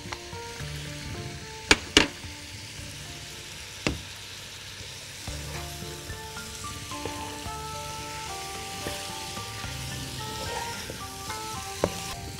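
Garlic fries in a pan with a steady, close sizzle throughout, broken by a few sharp clicks and scrapes of stirring.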